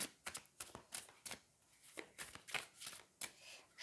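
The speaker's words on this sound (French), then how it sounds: "Je mélange bien parce que je ne l'ai pas utilisé depuis un petit moment." A deck of tarot cards being shuffled by hand: a close, quiet series of soft riffling slides and taps in an uneven rhythm, with no talking.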